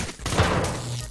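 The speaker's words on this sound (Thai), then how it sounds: "โอ้โหเขามายิงเลเซอร์ตรงนี้อีกนะผู้ชม" Laser gunfire in the Roblox military game Military Tycoon, a burst of rapid shots with a thumping impact, loud and close.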